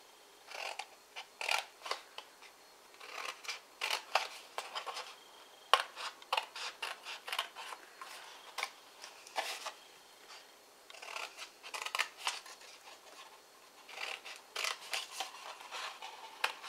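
Paper snipped with scissors while making a Christmas bauble, a steady run of short crisp cuts with brief pauses between bursts, close and fairly quiet with no talk.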